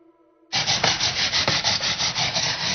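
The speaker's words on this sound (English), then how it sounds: "After grating the daikon, transfer it to a sieve and drain." Daikon radish rubbed on a grater in steady, rapid back-and-forth strokes, a close, loud rasping scrape that starts abruptly after a moment of quiet.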